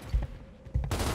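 Bursts of automatic gunfire in a 3v3 multiplayer shooter match on the Gridlock map: two loud, short volleys separated by a brief lull, with no talk over them.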